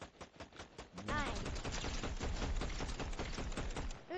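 Rapid automatic gunfire from a Fortnite match, a dense unbroken burst of sharp shots that begins after a short lighter patch and keeps pounding for about three seconds before cutting off. No voices are heard.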